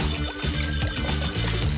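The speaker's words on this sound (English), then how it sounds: "We just need to pour some of the milk in with the egg." Milk pours in a short, steady, gurgling stream into a bowl holding an egg during home kitchen prep, a close, continuous liquid splash.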